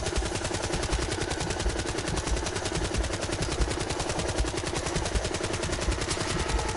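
Rapid, steady automatic gunfire from the World War II shooter Call of Duty WWII, a loud, continuous burst of closely spaced shots that runs unbroken for several seconds with no pauses.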